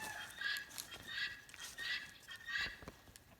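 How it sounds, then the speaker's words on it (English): Chickens give repeated honking, squawking calls in a regular rhythm, about four bursts in a row, at moderate distance over faint background noise, with no talking. "I'm going to show you before I sign off what my chickens are doing now"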